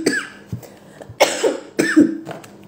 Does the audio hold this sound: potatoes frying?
no